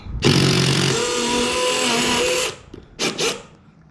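A power drill backing a screw out of a gutter whirs loudly and steadily for about two seconds, then stops, followed by two quick short bursts.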